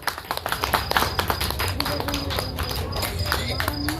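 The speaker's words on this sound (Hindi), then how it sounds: "जोरदार तालियां चाहिए।" Applause at a village cultural program with dance drama for six girls of a dance group, rapid dense clapping mixed with music and a voice over a loudspeaker, continuous and fairly loud throughout.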